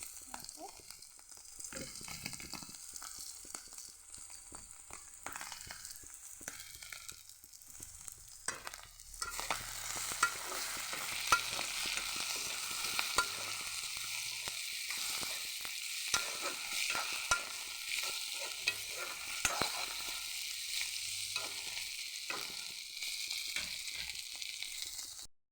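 Ginger-garlic paste fries with onions and boiled potatoes in a pan, starting as a quiet sizzle and then jumping to a loud, steady hiss with spatula stirring scrapes, near and without talk.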